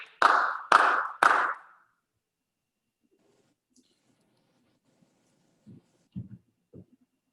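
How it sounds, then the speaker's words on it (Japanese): Three sharp, loud single hand claps evenly spaced at a memorial service, followed by near silence with a few faint soft taps and rustles. "拍手"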